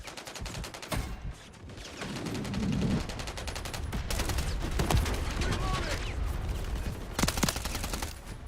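Rapid bursts of automatic gunfire and single shots crack through a Modern Warfare III multiplayer match, loud and close with a steady background din, sharp volleys near the middle and end, and game voices calling out under the shooting.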